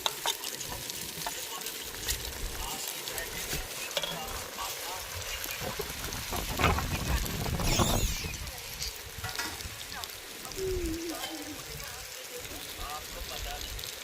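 Mutton coated with turmeric and salt dropped into roasted masala over a wood-fired village stove, a steady loud sizzle and frying hiss with stirring scrapes, swelling midway, no one talking.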